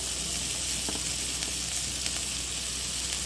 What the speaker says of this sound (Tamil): இப்போ வந்து நம்ம நறுக்கி வச்சிருந்த கேரட், பீன்ஸை சேர்த்துக்கலாம்